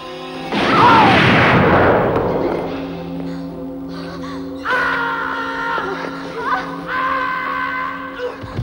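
Battle scene from a 1987 war drama: a heavy blast or gunshot bursts out, then rumbling aftermath and a wailing, droning tone, with a second loud burst midway.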